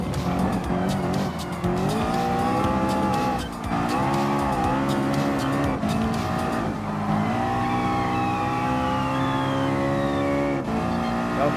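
A Ford Mustang and a LaFerrari race in Gran Turismo Sport, their engines roaring loudly and continuously, pitch rising and falling through gear changes, with tires squealing through the corners.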